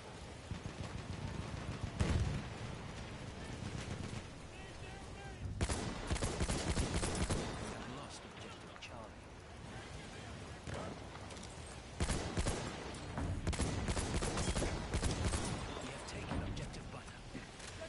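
Bursts of rapid gunfire in the Battlefield 1 video game, with loud clusters of shots separated by quieter stretches over a noisy battlefield backdrop.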